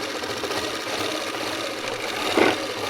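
A sewing machine runs steadily while stitching one leg seam of an Afghani salwar, a continuous mechanical whir with a brief louder burst near the end.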